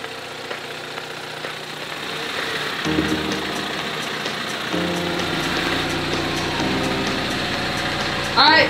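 Mini Cooper engine cranking and catching after months of sitting, then running at a steady mid-pitched idle with a persistent rattle, close and moderately loud, with a sharp jolt of noise near the end.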